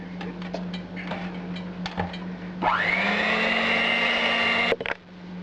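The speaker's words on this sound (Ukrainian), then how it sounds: "Муку я просіяла і зараз буду збивати разом з цими яйцями" An electric hand mixer whirs into action beating sifted flour with eggs for a sorrel pie, a steady high motor whine starting after scattered clinks and lasting a couple of seconds before cutting off with a knock.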